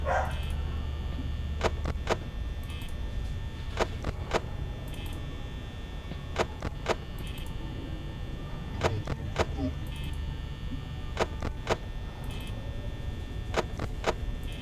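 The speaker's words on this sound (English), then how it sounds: "Or the dogs barking" Several sharp dog barks ring out in scattered bursts over a steady background hum, some close together in quick pairs.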